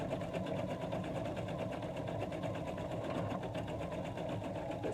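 An embroidery sewing machine stitching out design details runs steadily and continuously, a dense, even mechanical whir with rapid needle rhythm, close and unbroken throughout, with no talking.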